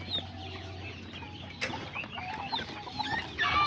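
Azteca roosters and hens cluck softly at close range in a farmyard, scattered short clucks and a few higher calls over low background hum, with no talking.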